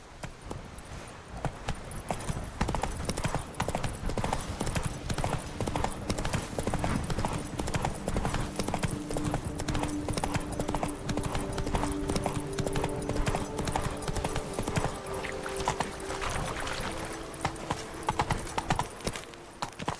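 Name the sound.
horse Roach galloping in video game The Witcher 3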